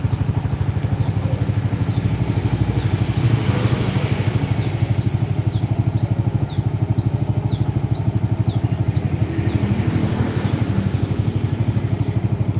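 A motorcycle engine idling and being revved, a loud near steady rapid putter with swelling rev surges and a repeated faint chirp over the engine note.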